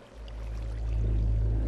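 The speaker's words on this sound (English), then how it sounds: "Two waterfalls." Steady rushing water from two waterfalls in Minecraft, a continuous low wash that swells slightly in the first second, then holds even and fairly loud with no talking.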